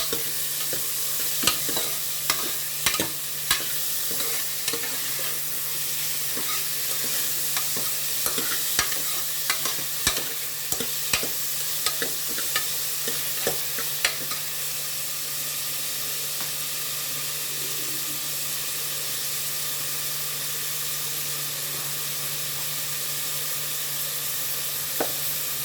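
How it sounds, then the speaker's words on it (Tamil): Onions sauté in hot oil with a little salt in a pan for a country chicken gravy, a steady close sizzle broken by repeated scraping clicks of a spoon stirring, the stirring thinning out toward the end while the frying hiss continues. "கொஞ்சம் உப்பு போட்டுக்கிட்டோம்னா சீக்கிரமே ஆகிடும், சீக்கிரம் வதங்கிடும் வெங்காயம்."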